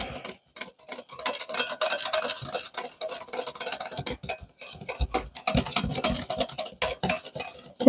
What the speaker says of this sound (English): So we're just going to whisk that all together.